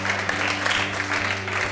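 A studio audience at a Spanish television quiz show applauds steadily and loudly, with dense continuous clapping and a faint crowd murmur underneath.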